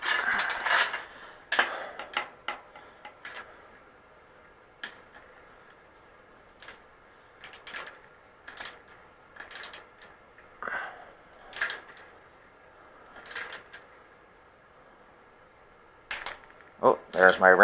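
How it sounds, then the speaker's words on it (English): A torque wrench clicks while tightening the bearings on a road bike, giving a series of sharp mechanical ratcheting ticks in irregular bursts with quiet gaps between them. "Oh, there's my wrench clicking."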